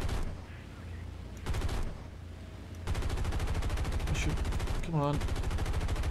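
Bursts of B-25 bomber machine gun fire in War Thunder, loud rapid rattling that starts and stops in several strings over steady engine drone, with a brief spoken voice.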